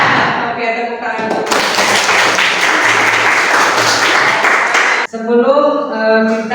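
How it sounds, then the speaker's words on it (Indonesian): A class breaks into applause, a dense burst of many hands clapping for several seconds, with a voice speaking just before and right after it. "Oke, tepuk tangan."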